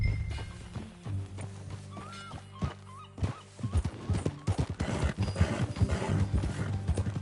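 Horse hooves clip-clopping in Red Dead Redemption 2, a steady close trotting rhythm with a brief whinny, over a low game soundscape.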